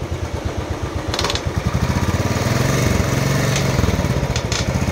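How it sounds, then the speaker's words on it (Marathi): A Royal Enfield Bullet motorcycle engine runs close by with a steady, rapid low thumping beat that holds for the whole stretch and rises slightly partway through, with no talking. "आज बुलेट चालवायला घेतलेली आहे, सेलवरती होती."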